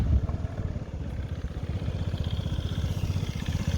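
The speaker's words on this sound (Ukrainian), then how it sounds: "перевіримо, як заводиться з кікстартера" Honda Tact AF75-79 fuel-injected start-stop scooter engine kicked into life, settling into a steady, close, loud rapid putter with dense pulses throughout.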